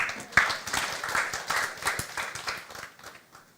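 Scattered applause from a church congregation during a sermon, starting with a sharp clap and continuing as uneven clapping that gradually thins and fades toward the end.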